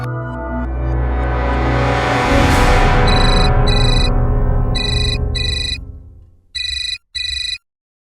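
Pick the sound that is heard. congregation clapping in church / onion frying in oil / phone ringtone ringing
phone ringtone ringing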